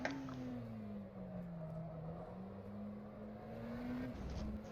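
McLaren Senna GTR race car lapping the Nürburgring Grand Prix circuit in rFactor 2, its engine holding a steady loud drone with slight pitch swells from gear and throttle changes, no talk.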